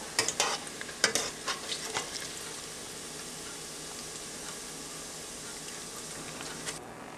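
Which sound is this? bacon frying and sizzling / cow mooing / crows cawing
bacon frying and sizzling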